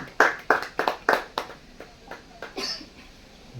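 A church congregation bursts into loud hand clapping at a Sunday service, several sharp bursts in quick succession at first, then thinning into a few scattered, softer claps with a brief murmur of voices near the end.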